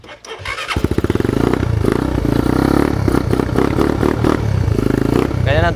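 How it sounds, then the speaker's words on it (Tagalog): Motorcycle fitted with an aftermarket Chukigi exhaust pipe starting up and revving, a loud, deep, bassy burbling roar close by that rises and falls in pitch, with no talk over it. "Ganyan ang tunog ng Chukigi pipe."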